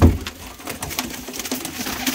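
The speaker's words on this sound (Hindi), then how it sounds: "ये देख लीजिए सारे कबूतर" Punjabi pigeons coo softly in a low, rolling murmur, several birds overlapping, with faint fluttering and rustling nearby.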